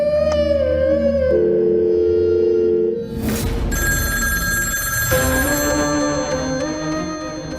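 A telephone rings on through a tense scene in a Turkish TV drama, its tone heard over loud dramatic music with sharp swells, and no speech.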